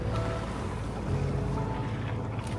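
A boat motors steadily across open water near a glacier, with a constant low engine drone, wash and wind noise filling the short stretch at close range.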